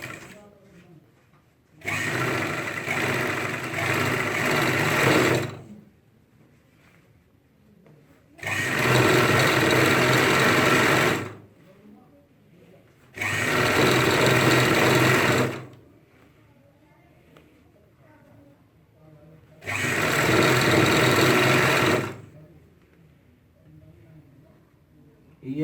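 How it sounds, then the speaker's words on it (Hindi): An electric sewing machine stitching a ladies' pant with side zip runs in four bursts of steady whirring of several seconds each, separated by quiet pauses, with a voice talking faintly between runs. "अब हमारा ये जो आ रहा है हम इसको इस हिसाब से पलटेंगे और यहाँ सिलाई लगाएंगे।"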